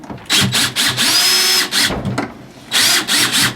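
Power drill driving screws into the pre-drilled threads of an electrical outlet box during a chicken coop build, with several short, loud whirring bursts separated by brief pauses.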